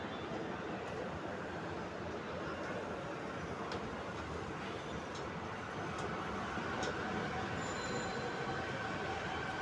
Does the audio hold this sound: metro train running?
yes